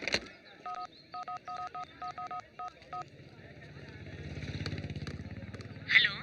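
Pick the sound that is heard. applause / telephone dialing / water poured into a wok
telephone dialing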